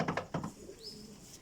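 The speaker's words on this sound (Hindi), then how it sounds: "ये आपको मैं कबूतर का शो करवा रहा हूँ" Soft, low pigeon cooing close by, a few short rounded coos in quick succession, with some rustling around them.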